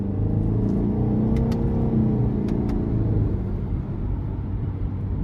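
A 2023 Subaru Ascent Limited with a turbocharged four-cylinder engine and all-wheel drive accelerates hard, its engine a loud, steady low rumble with a rising drone, heard from inside the cabin without talk.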